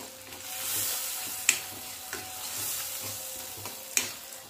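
Garlic chutney being stirred in a pan over low heat, with a soft steady sizzle and a few sharp scraping clicks of the spoon, close and alone.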